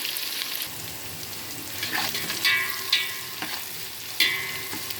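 Green chillies frying and crackling in hot oil in a pan, a steady close sizzle with a few sharper pops and stirring scrapes, no voices.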